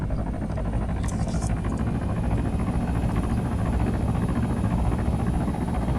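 Helicopter gunship in the video game Arma 3, a steady low rotor and engine rumble holding at an even level throughout, with no talking.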